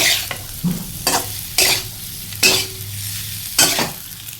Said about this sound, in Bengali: এখন আমি আলু এবং কাঁঠাল একসাথে একটু ভাজি করে নেব।